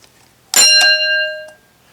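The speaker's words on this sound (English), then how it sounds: "a shaft bell from an old underground mine" A single antique non-electric mine shaft bell, about 100 years old, is struck once, then rings out clear and bright with a long sustained tone before it is cut off.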